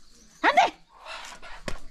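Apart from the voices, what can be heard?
dog barking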